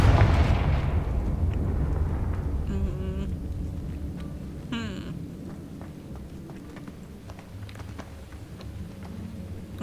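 Confringo blasting spell going off in a Harry Potter video game: a loud, booming blast opening the clip, fading into a rumbling tail with scattered crackles and a few short effect sweeps.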